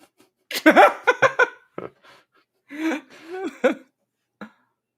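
Man coughing in the horror film The Exorcist: a cluster of harsh, choking coughs and throat-clearing bursts close up, followed by a few more strained coughs and a final short hack, separated by silence.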